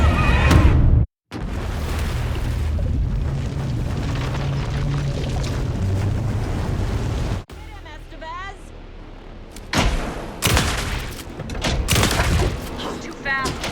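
Gunfire and blasts in the video game Alan Wake 2, loud bursts of shots and booms that cut out abruptly, followed by quieter scattered pops and clatter with characters talking over the action.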